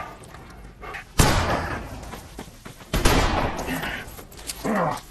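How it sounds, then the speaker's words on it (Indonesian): Gunfire in a Western film shootout in a forest: two sharp, loud shots about two seconds apart, each trailing into a reverberant decay, with quieter rustling and a softer report near the end. "Di sana mereka saling menembak sampai akhirnya Henry berhasil membunuh Ketchum."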